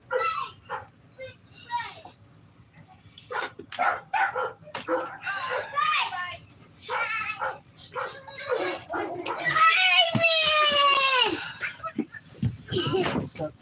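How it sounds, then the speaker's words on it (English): A household dog barks and yips excitedly in quick, uneven bursts, fairly close, mixed with a person talking, and a longer whining cry partway through. "Ooh, my dog's going crazy."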